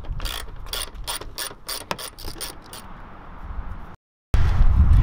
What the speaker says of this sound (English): there's a 10mm bolt that needs to get removed, and this is also on both sides